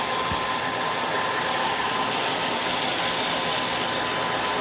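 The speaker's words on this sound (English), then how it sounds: "I'm going to put the hot glue, the hair dryer here on the riser" A hair dryer runs continuously with a steady, loud whooshing hum and no pauses.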